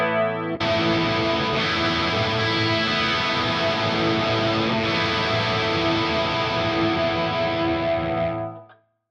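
Clean electric guitar chord through a Fractal unit, with medium-depth, medium-rate chorus-style modulation. It rings alone for about eight seconds, steady and shimmering, before cutting off.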